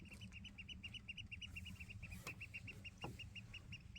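Many birds, likely chickens or fowl, call repeatedly outside a van window, a steady run of chirping clucks at moderate distance with no talk.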